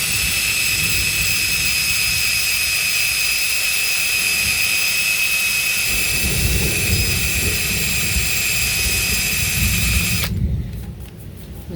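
Power sander working a damaged alloy wheel spoke with 60 grit abrasive, a loud steady high whine that runs unbroken and then cuts off near the end.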